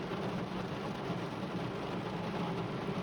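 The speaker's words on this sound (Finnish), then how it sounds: "Ei kun nyt ruppaa vettä tulee." Rain begins to fall, making a steady, even patter and hiss that holds at one level throughout, with no voices.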